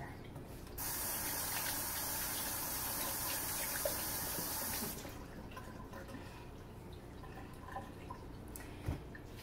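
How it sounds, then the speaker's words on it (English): Tap water running over a finger in a kitchen, a steady close hiss of flowing water for several seconds that cuts off, followed by quieter handling noises. "Now I'm going to wash my finger."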